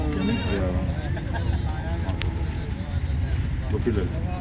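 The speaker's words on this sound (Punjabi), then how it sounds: "ਉਹ ਬੱਕਰੀ ਵੱਡੀ ਆ" Goats bleat repeatedly at a busy Saturday goat market on Kotkapura road, several nearby wavering cries over a constant crowd murmur with people talking throughout.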